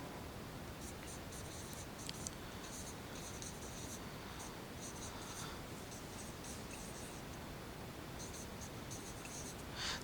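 Pen or pencil scratching steadily across paper while a sentence is written by hand, a soft, continuous close-up scratch with brief strokes and pauses, no voices.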